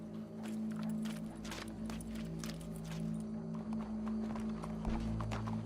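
Horse hooves clip-clop steadily in Red Dead Redemption 2, a rhythmic run of hoofbeats at moderate distance over a low ambient hum, with faint background voices.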